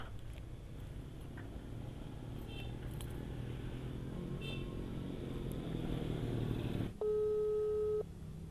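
A steady low motorcycle engine hum, then a phone busy signal beeps in a short repeated tone for about a second near the end.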